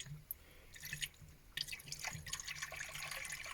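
Coolant trickles and drips steadily as it is poured into the header tank of a Vauxhall Vivaro van, with a soft splash growing busier partway through; close and fairly quiet, with no talking.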